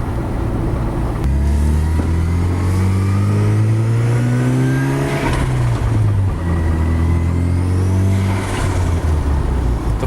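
Mazda RX-7 FD3S with a new downpipe, revving loudly and close in two rising sweeps, each ending in a fluttering turbo release between the pulls.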